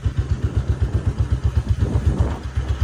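A restored old Royal Enfield Bullet motorcycle running in top gear at low speed, its single-cylinder engine thumping in a steady, even, loud pulse heard close up with no voices.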